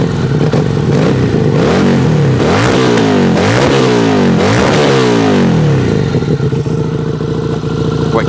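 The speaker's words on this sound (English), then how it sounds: "I'm just going to start it up just so you can hear the exhaust." Lexmoto Vendetta 250 motorcycle exhaust revved repeatedly at close range, several sharp rising and falling blips of the engine over a steady idle, loud and alone with no talking.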